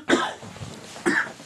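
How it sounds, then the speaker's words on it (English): Two separate coughs from one person, sharp and close, about a second apart with a short quiet gap between them. "I'm having a bit of a cough today"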